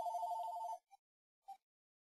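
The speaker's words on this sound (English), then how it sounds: "Sorry about the phone" Telephone ringing indoors: a bright electronic ring lasting under a second, then two short faint chirps trailing off, alone without talk.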